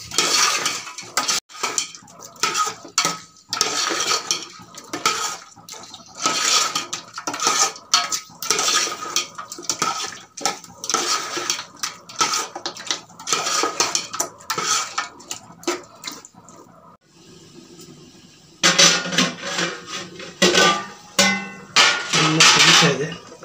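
Ground sago paste with mint and fenugreek being mixed into mutton biryani in a pot, a steady run of metal spoon clinks and scrapes against the pot, loud and close, with a brief quieter pause before the clattering resumes.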